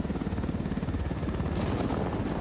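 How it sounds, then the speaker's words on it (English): A helicopter comes in to land in the video game Ghost Recon Wildlands, its rotor thumping in a fast rhythmic pulse under a steady engine drone, with a brief whoosh near the end. "Okay, let's land this helicopter."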